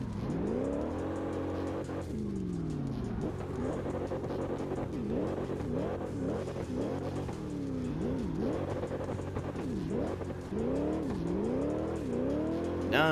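A drift car in CarX Drift Racing Online, fitted with a Cargo Drift Modification tune, revs hard and runs fast, its engine note climbing and dropping through repeated gear changes with tire squeal, close and loud throughout.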